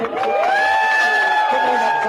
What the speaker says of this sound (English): crowd welcoming 19-year-old pilot Zara Rutherford